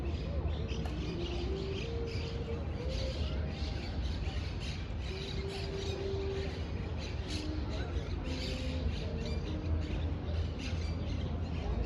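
Pigeons squawking and calling outdoors in Madrid over a steady, busy background murmur.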